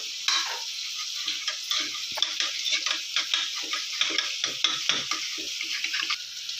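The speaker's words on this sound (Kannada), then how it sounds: "ಬೇಯಿಸಿಟ್ಕೊಂಡಿರುವಂಥ ಬೇಳೆ ಒಂದ್ಸರಿ ಎಲ್ಲ ಮ್ಯಾಶ್ ಮಾಡ್ಕೋಬೇಕು" Cooked toor dal for idli sambar is mashed in a pot, producing a rhythmic series of soft, close, wet taps and squelches, with a light sizzle underneath and no voices.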